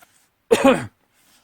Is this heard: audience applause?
no